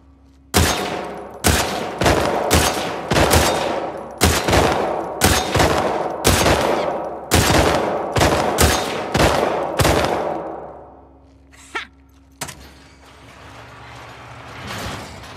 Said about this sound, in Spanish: ¿Una competencia de disparos?